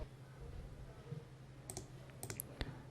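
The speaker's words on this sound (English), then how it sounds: "Now when I right click and click on delete, it will directly delete the file." A few quick, faint computer mouse clicks on a Windows PC, a single tap followed by a short cluster, over a low steady room hum.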